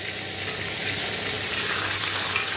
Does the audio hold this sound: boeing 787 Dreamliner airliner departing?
no